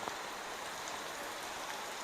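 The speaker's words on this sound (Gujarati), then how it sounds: "વરસાદી કંઈક માહોલ જામ્યો છે જુઓ તમે" Rain falls steadily on a rooftop terrace in Surat, a soft, even, continuous hiss of drops with no voices, faint and constant throughout.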